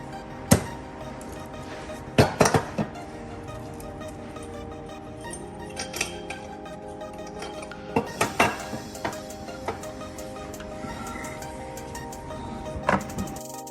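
Aluminium transmission case and differential gears of a 2010 Toyota Altis CVT are lifted out by hand, giving sharp, sporadic metallic clanks and clinks at close range over a quiet workshop background.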